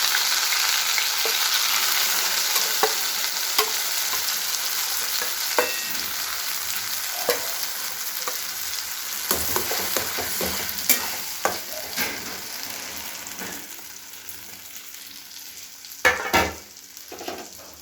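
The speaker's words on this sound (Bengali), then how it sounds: "এখন আমি যেই পেস্টটা করে রেখেছিলাম সেই পেস্টটা তেলের মধ্যে দিয়ে দিলাম।" Mankochu (giant taro) paste frying in oil with chilli, stirred continuously: a close, even sizzle broken by repeated scraping and knocking strokes of a spatula, with a few sharper clatters near the end.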